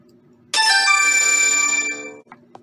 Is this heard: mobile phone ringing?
yes